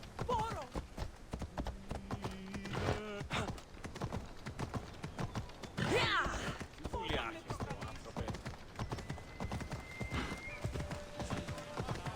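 Horse hooves clip-clop steadily through Assassin's Creed Odyssey gameplay, with a brief whinny and a voice talking over the game audio and music.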